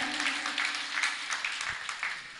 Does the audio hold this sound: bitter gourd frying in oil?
no